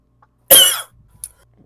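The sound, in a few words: cough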